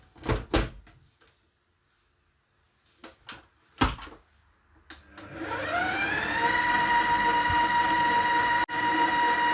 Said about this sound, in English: So I'm going to give that a little mix.